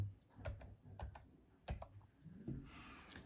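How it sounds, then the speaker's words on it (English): Someone types a PIN code on a computer keyboard, producing soft, quiet clusters of key clicks separated by short pauses. "Type in the PIN code."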